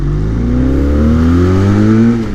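A Benelli 502c motorcycle engine pulls strongly while riding, a loud close drone with its pitch climbing steadily as it accelerates, and no talking.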